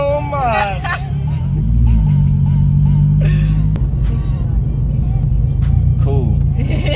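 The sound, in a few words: 500hp turbocharged Toyota 86 accelerating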